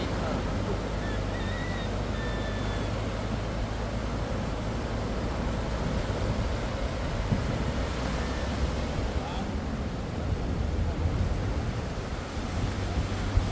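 Steady roar of ocean surf mixed with wind buffeting the microphone, continuous and fairly loud throughout.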